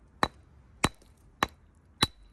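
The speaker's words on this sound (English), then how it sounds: "it took quite a few pretty hard hits with the hammer" A hammer striking a stone nodule to split open a fossil, four sharp, hard knocks spaced evenly about half a second apart, close and alone.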